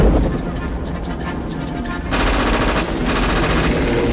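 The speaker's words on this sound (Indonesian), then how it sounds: "dihujani tembakan dari atas helikopter" Rapid machine-gun fire from a helicopter rattles in dense, loud bursts over a rumbling background, continuous and close.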